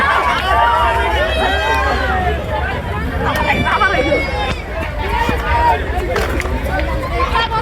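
A dense crowd of spectators gathered outdoors around a running bull, a loud continuous babble of many voices with shouts and calls rising over it throughout.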